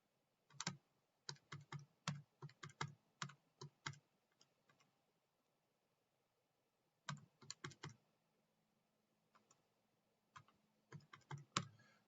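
Rapid bursts of small plastic key clicks as numbers are typed into a calculator, tapped in quick runs separated by pauses, close and fairly quiet, with no talking.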